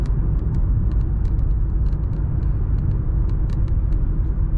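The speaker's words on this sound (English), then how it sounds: "congestion or traffic in Cape Town" Congested road traffic near Cape Town, a steady low engine and tyre rumble from a moving vehicle with light ticking rattles scattered over it.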